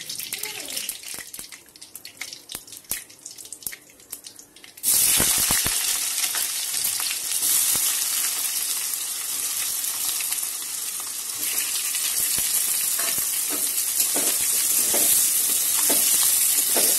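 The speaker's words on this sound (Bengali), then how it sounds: "দুটো তেজপাতা দিয়ে এবার এর মধ্যে পেঁয়াজটা ভাজব" Onion dropped into hot oil with bay leaves, a few quiet clinks before a sudden loud sizzle that then hisses on steadily and close, with occasional stirring scrapes.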